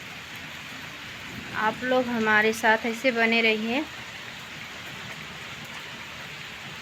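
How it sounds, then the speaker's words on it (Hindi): Steady heavy rain hisses as a constant wash of noise outside a house doorway, with someone speaking briefly over it in the middle before the rain continues alone. "रात से ही बारिश हो रही है, बहुत तेज़ की बारिश है।"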